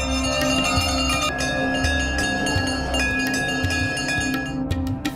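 Temple bells rung by devotees at a goddess shrine clang repeatedly in a dense, overlapping jangle with sustained ringing tones, loud and continuous throughout.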